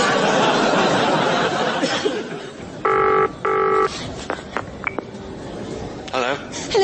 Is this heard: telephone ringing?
yes